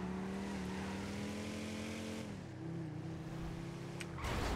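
A car engine in GTA V on the NoPixel roleplay server drones steadily, drops in pitch as it shifts gear partway through, then revs up sharply at the end, with no talking.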